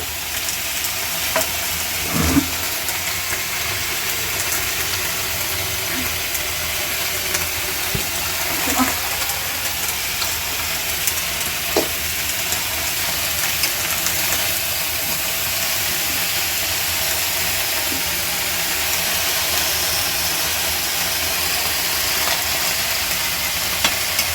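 Tough vegetable stems sizzle and fry steadily in a pan while being stirred, a continuous loud hiss broken by occasional scrapes and knocks of the spoon.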